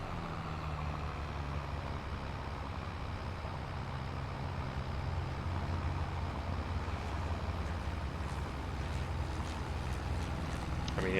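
A big 8550 tractor pulls a tillage implement at about seven miles an hour, its engine a steady, heavy low drone with a constant rumble throughout.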